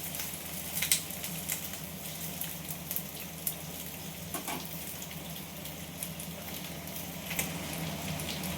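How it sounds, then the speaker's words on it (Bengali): Ivy gourd (kundru) frying in a pan with oil for a spiced dish, giving a steady crackling sizzle with scattered sharp pops, close and continuous, no voices. "এই কুঁদরিগুলো একটু ভাজা বসিয়ে দিলাম।"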